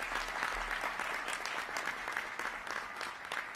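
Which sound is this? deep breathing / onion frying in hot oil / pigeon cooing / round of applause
round of applause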